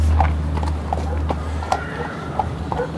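Horse hooves clip-clopping at a walk in Andorra, a series of light, evenly spaced clops at moderate distance over a steady low rumble, with a voice faintly present.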